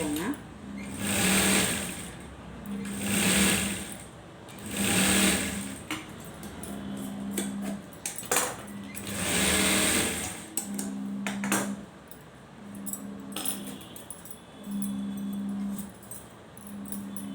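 A sewing machine stitches folded cloth in repeated whirring runs of a few seconds each, with shorter bursts and quiet gaps later and faint clicks between runs, close and clear.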